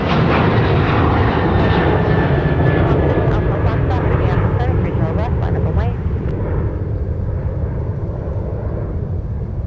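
Loud, close roar of an airliner taking off at Minneapolis–Saint Paul airport, a broad rumbling engine blast that slowly eases, with a voice speaking underneath.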